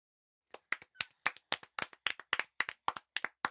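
Children clapping in unison in a Hindi math classroom, a dozen or so sharp, close claps in a steady rhythm after a short silence, with no talk.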